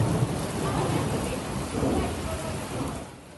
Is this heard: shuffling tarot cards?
no